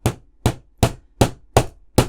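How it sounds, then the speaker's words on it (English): Six sharp, evenly spaced taps of a small hammer on a 1:8 scale Shelby Cobra model part ring out close by, each a crisp knock that quickly fades, with no talking. "I think I might have to use a little hammer for this"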